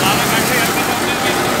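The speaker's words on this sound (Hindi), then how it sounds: "दाना काट रही ट्रैक्टर के 100 RPM कम करवा दो" A Mahindra 575 DI tractor drives a grain thresher cutting wheat, making a steady, loud, continuous mechanical roar with constant drone and no pauses.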